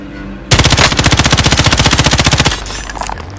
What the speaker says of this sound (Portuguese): Oh, os caras das costas estão atirando em nós